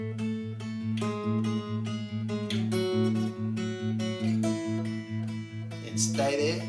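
Guitar plays the chord progression of a song, steady strummed chords ringing continuously with bass notes beneath, close and unaccompanied, ending in a brighter flourish.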